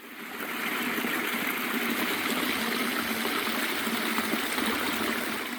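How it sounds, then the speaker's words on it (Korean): Clear water flows steadily down a rocky mountain valley stream beside Hyeontongsa temple in Seoul, a continuous, even rushing and trickling close by with no voices. "아직 비가 많이 오진 않았지만 이곳은 언제나 맑은 물이 흐르네요"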